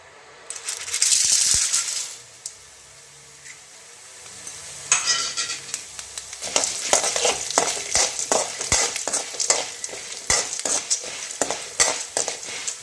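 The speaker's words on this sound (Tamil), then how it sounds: "அடுத்து நம்ம உளுந்தையும் கடலை பருப்பையும் வறுத்துடலாங்க." Urad dal and chana dal frying and being stirred in a pan while a tamarind chutney is being made, with steady sizzling and repeated scraping of the spoon against the pan, close and alone.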